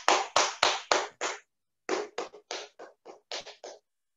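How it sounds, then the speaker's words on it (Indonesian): A small audience claps in short bursts, a few loud rounds of hand claps, a brief pause, then more scattered, thinner clapping that fades out. "Tepuk tangan buat kita semua"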